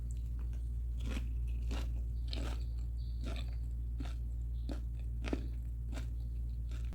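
Nachos eaten by hand, giving a series of close, quiet crunching bites spaced steadily over a low steady hum, with no talking.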